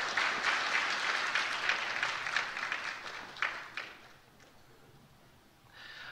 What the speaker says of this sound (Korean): 우리 출산 장려금을 전달할 때 큰 박수로 축하해 주십니다.